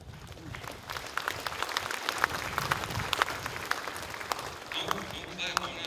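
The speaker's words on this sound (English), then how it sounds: "Don't clap, I'm not done yet." Audience applause at a workplace safety stand-down presentation, dense clapping that swells and ebbs throughout with scattered sharp claps, while a voice talks over it.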